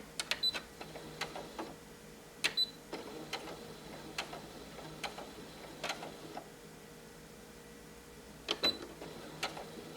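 A Brother SE 1900 sewing machine makes stitches in short, faint bursts of ticking and clicking, spaced irregularly across a quiet room.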